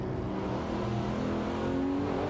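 A Mazda MT900 and a Porsche 911 991 Turbo accelerate out of a turn in a racing video game, a close, steady, buzzing engine drone with rising tonal whine and no talk.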